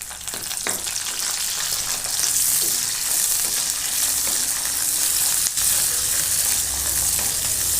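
Steady, loud sizzling of onions, chillies and curry leaves frying in hot oil, with occasional stirring scrapes throughout and no talking.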